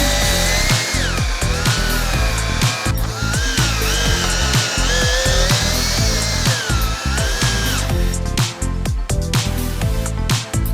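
A power tool drives a plug onto the chassis leg of a crashed BMW X5 M50i under rebuild, whirring loudly and steadily with rapid bursts and short pauses, close up with no talking.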